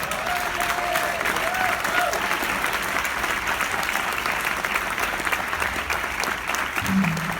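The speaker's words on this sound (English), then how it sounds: "Give it a round of applause for Dayton" Audience applause after an entrepreneurship talk at a conference, a steady full clapping crowd throughout, loud and dense, with a brief voice near the end.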